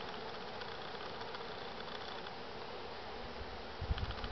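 Steady, dense buzzing of many honeybees close by at an open hive during an inspection, a continuous drone with a few soft knocks near the end.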